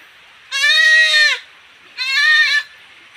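Two loud goat bleats, each about a second long with a wavering, nasal quality, separated by a short pause, close to the listener with no talking.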